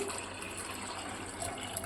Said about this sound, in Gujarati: અઢી વાટકી જેટલું આપણે પાણી નાખ્યું છે